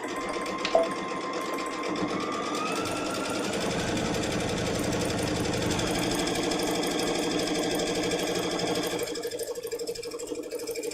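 A sewing machine runs steadily and close by for about ten seconds, back stitching over a quilt block seam to reinforce the corners, with a whine that shifts pitch partway through and then eases off at the end.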